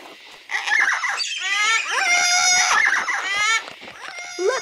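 A cartoon yellow-crested cockatoo screeches and squawks loudly and continuously in shrill, warbling calls, alone without talk.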